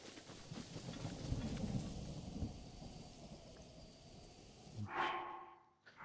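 Video game thunderstorm with steady rain hiss and low rumbling thunder rolling through, then a brief swelling rumble near the end before it drops away.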